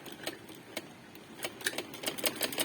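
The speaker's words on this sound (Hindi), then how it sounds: "मैं इधर आगे करके ये आगे बिल्कुल आगे किनारे पे सिलाई लगा रही हूँ" A sewing machine stitches along the very edge of a small girl's frock in quick, light, close bursts of rapid needle ticking over a soft motor hum, with no talk.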